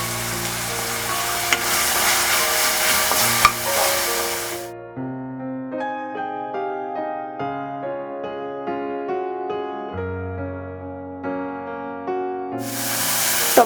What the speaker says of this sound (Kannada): ಫ್ರೈ ಆದಮೇಲೆ ಹೆಚ್ಚಿಟ್ಕೊಂಡಿದ್ದ ಟೊಮೆಟೊ ಹಾಕ್ಕೊಳ್ತಾ ಇದ್ದೀನಿ